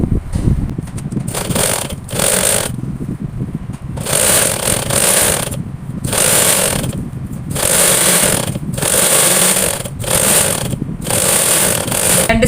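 A sewing machine stitches the side seams of a frock kurti, running in repeated bursts of a few seconds separated by short pauses, with a steady mechanical whir and rattle close by and no talking.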